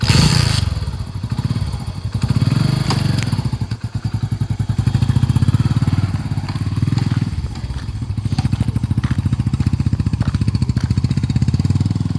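A motorcycle engine starts up and runs steadily, loud and close, as riders get ready for a bike ride, its continuous throbbing idle punctuated by a few thumps and clatters.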